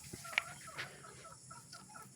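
A gamecock kept for cockfighting clucks and calls in short scattered bursts on a farm, fairly faint against a quiet background hum.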